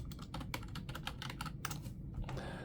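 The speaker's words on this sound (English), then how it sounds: "Say you type the word tummy pain" Quick, soft keystrokes on a computer keyboard tap out a short burst of typing at close range, with uneven spacing between clicks and no talking.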